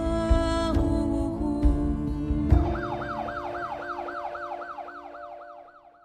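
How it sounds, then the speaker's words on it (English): An ambulance siren wails in a rapid rising-and-falling pattern as the vehicle speeds off, entering after several sharp knocks and low rumbling, then fading steadily into the distance. "the ambulance sped off."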